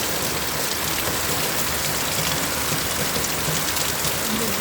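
Heavy monsoon rain pours down outdoors as floodwater fills the roads, a dense, steady roar of drops hitting surfaces that stays loud and unbroken throughout.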